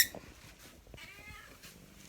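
A cat meows a few times while waiting for breakfast, short quiet calls in an indoor room with faint background sounds and no talk.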